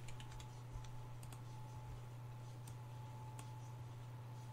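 Computer keyboard keys pressed during a key-delay test: scattered, quiet clicks and taps in small bursts over a steady electrical hum, fairly faint and close.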